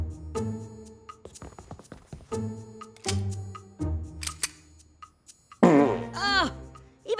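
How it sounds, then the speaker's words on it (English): A comic cartoon fart sound effect from an adult animated show, a loud wet, wobbling blurt near the end that follows earlier animated voices and music. "Oh, even his farts smelled like maple syrup."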